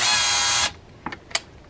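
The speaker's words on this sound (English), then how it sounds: "the drill press will keep this nice and clamped down, and it'll prevent that bit from wandering" Drill press boring out a broken screw in a Mitchell 300 fishing reel, a loud steady whine for well over half a second that cuts off, followed by a couple of faint metallic clicks.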